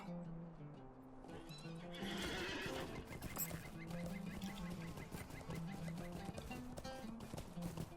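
A horse whinnies amid a busy soundscape in the game Lord of the Rings Online, with steady music and hoofbeats clopping underneath, loud and continuous.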